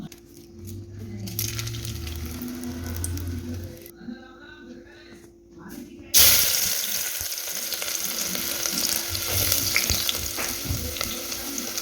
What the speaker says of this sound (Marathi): सुरुवातीला कांदा तळून घ्यायचा